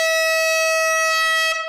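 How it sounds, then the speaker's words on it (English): A single loud air horn blast sounds as an effect during a live vinyl record sale broadcast, a sustained bright tone holding steady before cutting off abruptly. "Let's end with an air horn."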